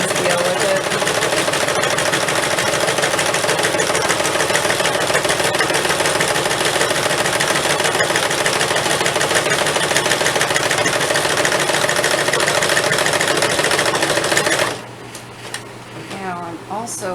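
A home sewing machine runs steadily for about fifteen seconds, stitching fabric for rice heating bags, with a close, even mechanical whir that stops abruptly, leaving a quieter tail with faint voice.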